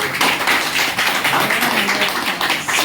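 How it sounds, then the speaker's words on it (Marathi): Loud, dense applause from an audience at a Kojagiri Purnima gathering with Buddha and Dhamma scripture reading, sustained clapping filling the whole stretch without pause. "त्या प्राचीसाठी एकदा जोरदार टाळ्या"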